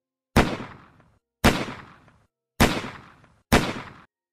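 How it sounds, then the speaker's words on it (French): Four sharp gunshots fired in a villa bedroom ring out alone, each a loud close crack with a short decaying tail, spaced about a second apart. "4 coups de feu."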